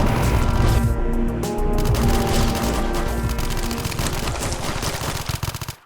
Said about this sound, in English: Hear that gunfire?